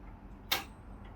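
A rich walnut grandfather clock with a Westminster chime and moon dial gives a single crisp click, close and distinct, against a quiet room.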